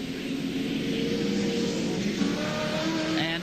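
An Oxo Supercube touring car roars past at Adelaide International Raceway during a 1987 ATCC race, a loud sustained engine drone with rising tones as it goes by.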